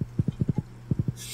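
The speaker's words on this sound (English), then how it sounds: "Horse has been so helpful just for getting around quicker." Horse hooves clip-clop in Stardew Valley, giving two quick bursts of about five and three soft, evenly spaced game-sound steps, clean and close with no talk over them.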